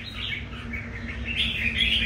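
A red-whiskered bulbul sings in bright, warbling phrases close by, chirps repeating without pause over a steady low background hum.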